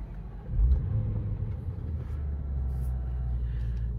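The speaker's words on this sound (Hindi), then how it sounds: "let's turn on the car" A car's engine turns over and settles into a steady low idle rumble, heard from inside the cabin at moderate level with no talking.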